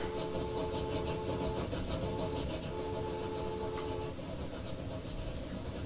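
A single train running along a line in the video game Transport Fever, a continuous rumbling rail drone with a faint steady tone that drops slightly near the end, no voices.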